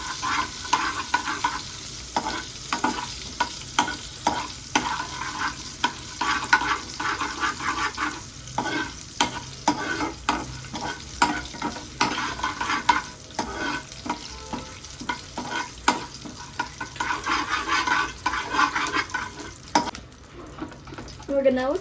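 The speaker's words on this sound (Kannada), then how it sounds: "ನಾವಿಲ್ಲಿ ಸ್ವಲ್ಪ ಕರಿಬೇವಿನ ಸೊಪ್ಪನ್ನ ಹಾಕ್ಕೊತಾ ಇದ್ದೀನಿ" Finely chopped curry leaves going into hot oil in a frying pan, a steady sizzle with crackling and bursts of stirring clatter at close range, no voices.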